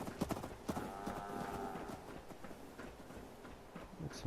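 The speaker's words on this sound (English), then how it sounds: "Oh, cows on the runway." Cattle in Fallout 4 moving about on an airfield runway, with steady hoof clops and low animal rumbling under a continuous game ambience; a tonal swell sits in the middle of the clip.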